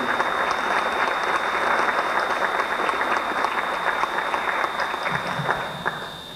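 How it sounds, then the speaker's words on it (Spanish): An audience applauds a pianist at a music event, producing a loud, dense, continuous round of clapping with a steady tone in the background that tapers off near the end. "Para él un aplauso"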